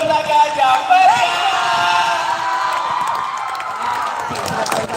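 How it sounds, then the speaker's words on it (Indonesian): An audience at a school quiz competition final claps and cheers for team A, with loud whoops and shouts at the start that settle into steady, slightly fading applause. "Beri tepuk tangan yang meriah"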